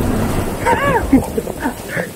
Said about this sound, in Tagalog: Parang may bagyo talaga kasi grabe lakas ng ulan.